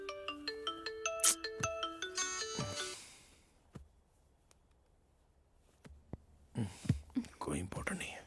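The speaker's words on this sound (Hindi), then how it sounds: "किसका फोन आ रहा है" A mobile phone ringtone plays a rising and falling melodic electronic pattern for a few seconds, then stops; quiet room tone with soft rustles follows, and faint voices return near the end.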